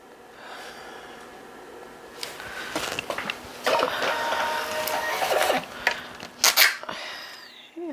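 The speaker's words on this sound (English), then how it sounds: "Go ahead and print on my Rollo printer here." A Rollo thermal label printer running off a shipping label, with stop-start mechanical whirring and feed bursts that grow busier and louder midway, close by and alone without talk.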